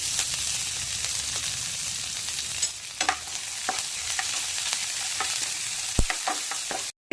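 Ginger, chili and curry leaves fry in a pan for making rava idli, giving a steady close sizzle with occasional crackles and pops and no talking.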